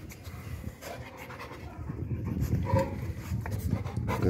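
A Rottweiler pants steadily at close range while being hand-fed kibble, its breathing continuous and fairly loud, with faint rustling around it and no clear speech.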